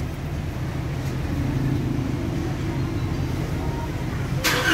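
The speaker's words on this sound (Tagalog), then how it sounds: "So start natin makina guys." A Nissan Calibre with throttle delay and transmission humming idles with a steady, low engine hum close by; the start itself is not distinct.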